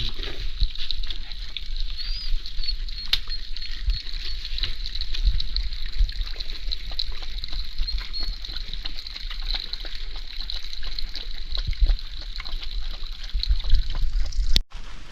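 Rain pattering steadily for fifteen seconds, a continuous close trickle and patter with scattered sharper drops and a brief knock near the end.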